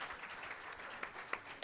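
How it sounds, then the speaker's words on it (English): Brief burst of audience applause at a Diani tech conference, fairly faint and diffuse, with a few sharper claps standing out near the end. "A round of applause for him again, tafadhali."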